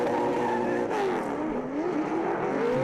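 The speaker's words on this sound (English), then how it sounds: "Just listen to these engines." Drift cars at a Drift Allstars round at Sydney Motorsport Park roar continuously, engines rising and falling in pitch as they battle near the wall, loud and close with tire noise mixed in.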